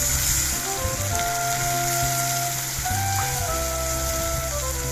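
Spice paste with green chili paste frying in a pan for a mixed-vegetable dish gives a steady, continuous sizzle with no talk, while faint tonal hum runs underneath.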